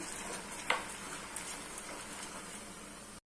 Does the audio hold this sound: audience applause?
no